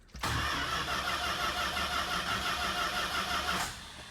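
A 1967 Plymouth Fury III engine cranks and catches after sitting for 15 years, settling into a loud, steady running roar close by that holds for several seconds, then drops off slightly at the end.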